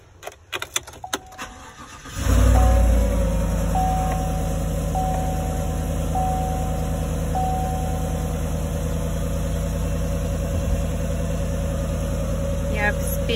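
A 2018 Chevy Silverado pickup cranks over and its engine catches with a loud surge, then settles into a steady, close idle with a few faint electronic chimes as someone talks before the start.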